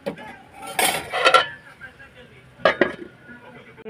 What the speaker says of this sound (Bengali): চলো এটাকে আমি আবার ঢাকা দিয়ে দিচ্ছি।